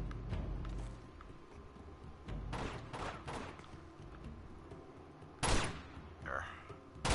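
Sniper gunfire in Uncharted 2 at a monastery, scattered sharp shots and impacts amid ongoing battle noise, a few louder cracks near the end, with some talk underneath.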